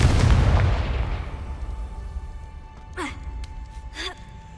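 A Confringo blasting spell in the Hogwarts Legacy video game bursts loudly at the very start, then its boom rumbles away over a few seconds, followed by a couple of short sweeping magical whooshes.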